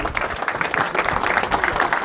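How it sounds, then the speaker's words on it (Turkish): A crowd claps steadily, a dense, continuous patter of applause that holds at even loudness throughout. "Bir alkış rica ediyorum."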